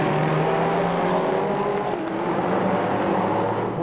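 GT3 race car at the Le Castellet circuit in France, its engine roaring steadily and close for a few seconds with a sustained high-revving drone and no talk over it.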